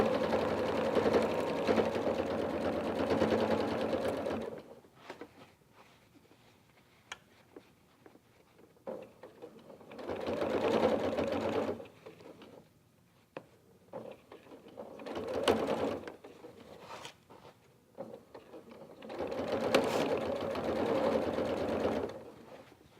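A sewing machine stitching a purse gusset in place, running in four steady bursts of buzzing stitches separated by quiet pauses, close and moderately loud.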